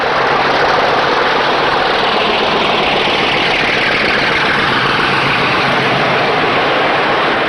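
A run-down, grubby British Rail Class 50 diesel locomotive named Ajax sets off with a train to Exeter in January 1991, its heavy engine giving a loud, steady, unbroken roar close by with no voices.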